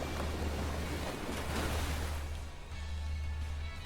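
Mega Slowbro's Muddy Water attack in the video game Pokémon Champions: a loud, continuous rushing wash of water over a low rumble, surging early, briefly easing past the midpoint, then swelling again, with no voices.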